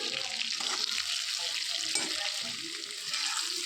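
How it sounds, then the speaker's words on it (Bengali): Potatoes fry in oil with bay leaf, dried chilli and cumin, making a steady, close sizzle with occasional stirring scrapes throughout. "শুকনো লঙ্কা আর জিরা ফোড়ন দিয়ে এটার মধ্যে আমি আলুটাকে ভেজে নিচ্ছি।"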